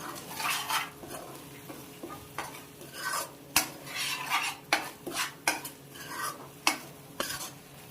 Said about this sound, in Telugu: సాల్ట్, పసుపు వేసేసుకుని కలుపుకుని ఇప్పుడు మూత వేసుకోవాలి